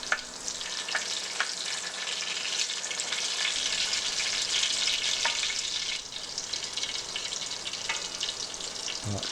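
Mutton curry vada, a chapli kebab style patty, fries on a medium flame in a continuous close sizzle with a few sharp pops and crackles and faint stirring, and nobody speaks.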